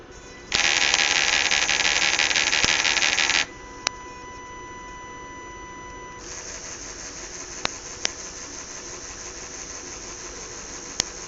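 A fischertechnik roller model rattles in short bursts: a loud, harsh buzzing run followed by a quieter steady mechanical whir with sharp ticks, close up and with no voices.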